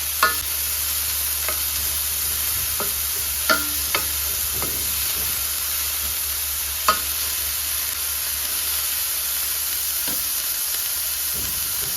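Cabbage and carrot sautéing in a pan for thoran with a green chilli, a steady soft sizzle with occasional spoon stirs and scrapes, no talking.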